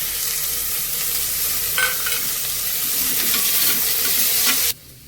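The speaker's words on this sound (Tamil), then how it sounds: "பட்டாணி வெங்காயம் எல்லாம் கொஞ்சம் வதங்கிச்சு நல்லா." Peas and onion sautéing in a pan with mint, a loud continuous sizzle with occasional stirring scrapes that stops abruptly just before the end.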